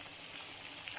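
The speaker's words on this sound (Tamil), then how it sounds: "மீன் நல்லா ஃப்ரை ஆகுதுங்க." Pieces of fish for a crispy fish fry crackle and sizzle steadily in hot oil, a close, even frying hiss with no voices.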